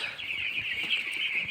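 Nine-day-old broiler chicks fill a poultry shed with a dense, steady chorus of high peeping and cheeping from many birds. It sounds close and continuous throughout.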